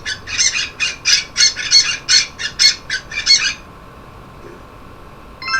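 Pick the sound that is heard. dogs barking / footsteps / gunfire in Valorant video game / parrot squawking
parrot squawking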